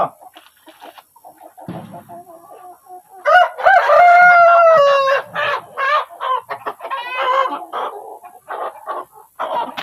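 Chickens, several roosters and hens, cluck and squawk close by while their feet are washed, one bird letting out a loud drawn-out crow-like call amid choppy bursts, with quiet human voices in the background.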